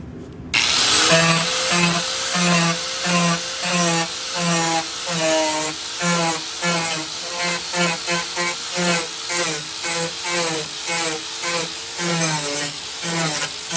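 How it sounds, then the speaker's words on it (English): A power grinder smoothing a melted plastic ridge during a car audio install, running steadily and loud with a rhythmic, pulsing whine as it works around the perimeter of the part. "Just go around the perimeter of that with the grinder there, and that should clean up any of that melted plastic ridge"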